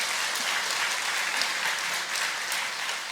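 A church congregation applauds during a Sunday worship service, a steady, dense wash of many hands clapping together that holds at an even level for the whole stretch, with no voices on top.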